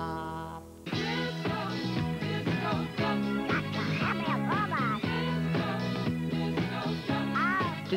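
The 1976 novelty disco record "Disco Duck" plays a pulsing dance beat with bass and brass stabs, while a human voice imitates a duck with squawky, quacking vocals throughout.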